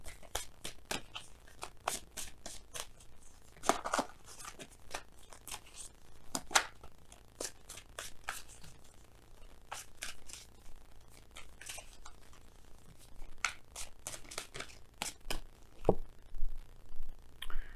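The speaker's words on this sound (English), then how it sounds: "We're gonna go ahead and pull you guys some some oracle cards from Messenger Oracle." Messenger Oracle cards are handled and shuffled close by, producing a rapid series of dry card flicks and riffles with irregular bursts of crisp snaps and no talking.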